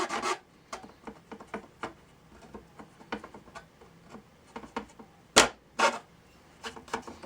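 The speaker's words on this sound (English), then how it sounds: "very carefully cut up to the mark you made" A small Zona hand saw cuts carefully up to a marked line, giving close, quiet rasping strokes in an irregular rhythm with a couple of louder scrapes.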